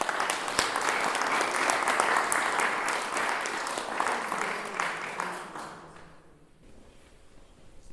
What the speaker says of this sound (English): So let's give her a really, really warm welcome.